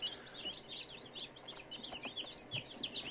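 Newly hatched chicks taken from a home incubator peep in rapid, high, overlapping chirps. The chirping is fairly quiet but continuous throughout, with no talking.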